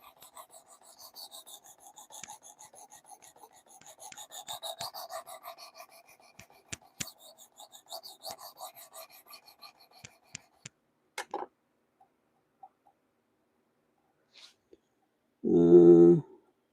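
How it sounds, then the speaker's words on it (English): A CPM Rex 121 steel blade is drawn across a 320 grit diamond plate in soft, quiet rasping strokes for about ten seconds, followed by scattered light clicks and a short, louder burst at the end. "I think this is going to be our last flip on the 320 grit diamond."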